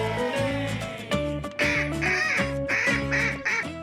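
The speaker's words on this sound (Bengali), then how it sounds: "এটা হলো হাঁস। হাঁসকে ইংরেজিতে বলা হয় ডাক।" A domestic duck quacks in a series of nasal, closely spaced calls, clear and near, with no other sounds.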